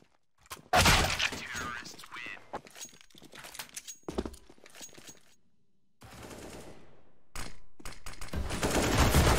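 Rapid bursts of video game gunfire crackle through an esports match, loud and close, broken by short pauses and quieter stretches, with a commentator's voice in places.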